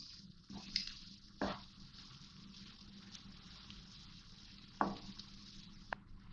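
Cooked minced meat keema with fresh green coriander stirred in a pot, heard as faint soft squishing and a few light spoon scrapes at scattered moments over a quiet background, with no talking.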